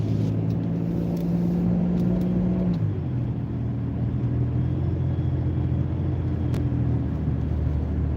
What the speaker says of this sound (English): There's a semi truck behind me,